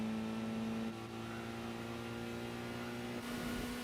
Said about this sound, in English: The Datsun taking off.